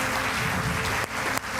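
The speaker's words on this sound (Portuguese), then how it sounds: "Vamos dar uma salva de palmas, gente?" Church congregation applauding after a baptism is announced, a steady wash of clapping with two brief dips before it carries on.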